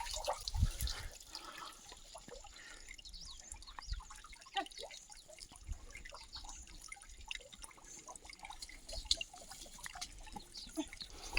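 Water flows from a pipe into a naula, a traditional stone spring well in an Uttarakhand hill village, a soft continuous trickle with scattered drips and splashes, quiet and close, with no voices.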